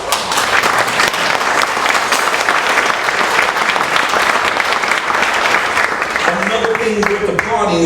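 Audience applause at a 2023 Juneteenth celebration in Portland, Connecticut, a dense, sustained crowd clapping that holds steady for several seconds and then thins toward the end, with some voices rising near the close.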